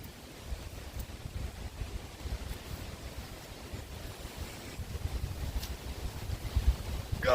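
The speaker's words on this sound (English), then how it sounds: "Fucking wind." Wind buffets a microphone outdoors on dirt trails, making a constant low rumbling roar with gusts that swell louder toward the end.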